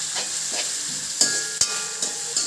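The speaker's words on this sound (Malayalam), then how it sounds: "ചെറിയ ഉള്ളിയും പച്ചമുളകും കൂടെ ചേർക്കണം. ഇതെല്ലാം നല്ലോണം വഴറ്റണം" Shallots and green chillies sautéing in a pan for a Kerala-style tuna curry, a steady close sizzle with a few sharp spatula scrapes and clinks breaking through at irregular moments.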